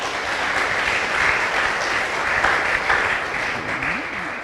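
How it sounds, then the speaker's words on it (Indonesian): A church audience claps together in a dense, sustained round of applause that stays loud and even for several seconds. "Kita tepuk tangan dulu saudara-saudara."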